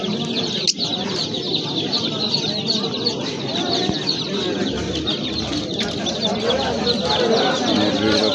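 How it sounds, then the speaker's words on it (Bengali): Chicks and other fowl at a busy outdoor bird market, a constant chatter of chirps and clucks close by with people talking over them. "বড় ভাই এটা কি মুরগির বাচ্চা?"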